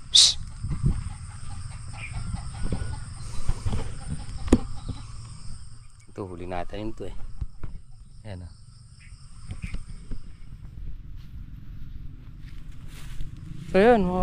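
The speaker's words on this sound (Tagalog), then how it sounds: "Manok tutukain." Chickens cluck nearby outdoors in scattered, irregular calls over a steady bed of insect chirping, while people speak in hushed voices now and then.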